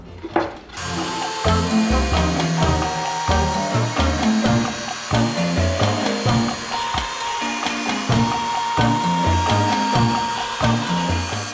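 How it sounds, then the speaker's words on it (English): A workshop bandsaw trims the sides off a mould, making a loud, close, continuous mechanical whir with repeated chunky cutting surges and rattles throughout, with no talking. "So we'll just take this to the bandsaw, cut these sides off"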